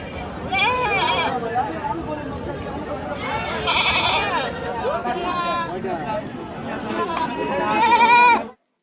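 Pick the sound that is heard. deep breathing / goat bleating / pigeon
goat bleating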